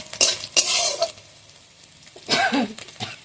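Cut potatoes frying with ginger and green chilli in oil for samosa filling, with a few sharp bursts of sizzling and utensil scraping between quieter stretches.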